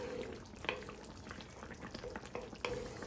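Meat and onions sizzle in a pan for a tagine with green beans, a faint soft frying hiss broken by occasional stirring clinks and taps.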